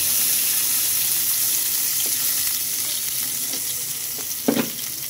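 Finely chopped onion frying in oil with salt, giving a steady close hissing sizzle with a brief clatter near the end.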